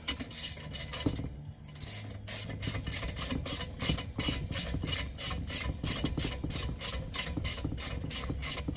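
A bolt is tightened with a solid bar with a tipping head while the bolt underneath is held in place. A ratchet clicks in a quick, regular rhythm close by after a brief pause, with no talking.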